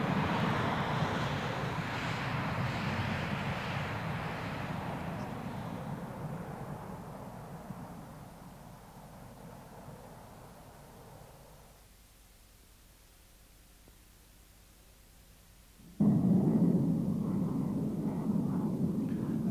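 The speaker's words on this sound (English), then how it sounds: "With the brakes released, Irv Burrows lifts the Eagle on its first flight. Screaming down the runway, he pulls the stick back, and Eagle number one is in the air." McDonnell Douglas F-15 Eagle jet roaring down the runway and lifting off on its first flight, a broad loud rushing roar that fades away, then a sudden abrupt burst of jet noise near the end.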